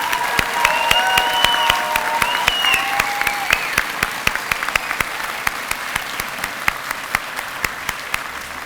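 An audience at a medical imaging program pinning ceremony applauds its graduates: full, dense clapping at first with a few whoops, thinning into scattered individual claps as it dies down.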